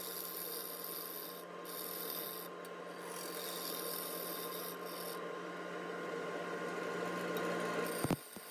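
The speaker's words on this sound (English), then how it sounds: "here I'm using a bowl gouge to make what will be the bottom of" A bowl gouge cuts a walnut bowl blank spinning on a wood lathe, giving a steady, continuous rasping scrape close up that holds evenly for several seconds, with a brief clatter near the end.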